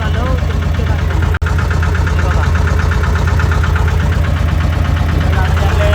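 A steady, low boat engine drone runs throughout on a crab-fishing boat, with a constant rumbling hum, briefly cutting out for an instant near the start.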